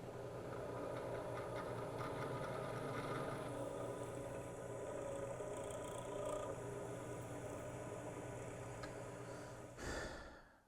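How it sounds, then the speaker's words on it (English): A drill press runs steadily at raised speed in a workshop, a continuous motor drone with harmonic hum throughout, fairly close, ending in a short knock or handling noise near the end. "I bumped up the speed of the drill press."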